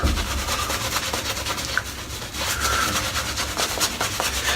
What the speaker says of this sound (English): It's got a superb scrub, this brush.